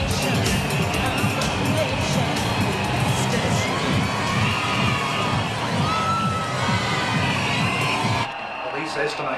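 A huge Mardi Gras street crowd cheers, shouts and whoops in a continuous loud roar with children's voices mixed in, dropping off abruptly near the end.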